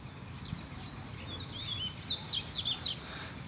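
Free collared seedeaters sing around a cage, their bright chirping phrases rising from a faint start into several clear, fairly close bursts over soft outdoor background noise.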